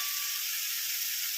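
Spice masala for a pomfret curry fries in a pan with a steady, bright close sizzle throughout, with no voices.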